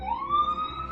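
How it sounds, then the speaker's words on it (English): An ambulance siren passes by, a brief loud rising electronic wail heard alone and close. "Every day at 3 o'clock the ambulance goes by."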